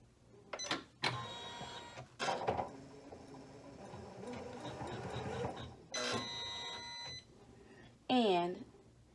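A Janome 500E embroidery machine runs in short mechanical bursts of stitching with whirring and clicking, separated by pauses, while a person speaks between the runs.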